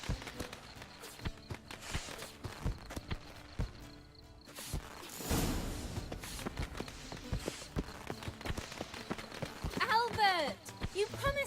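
Horse hooves clip-clop steadily across The Witcher 3: Wild Hunt game world, a rhythmic near stream of strikes on hard ground running throughout, with characters talking over them in places.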